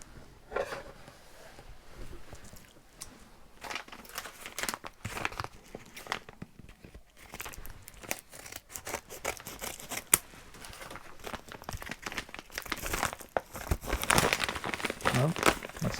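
A mail packet of vintage Star Wars figures being cut open with scissors, with close crinkling and rustling of packaging, snips and scattered handling noises that grow louder toward the end.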